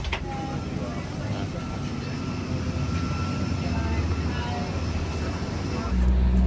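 Cabin of a Boeing 777-200ER airliner, a steady loud engine roar and airflow hum throughout, with a brief faint clunk near the end.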